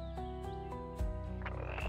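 Frogs croak in a brief animated story scene, a couple of short croaks sitting over steady background music.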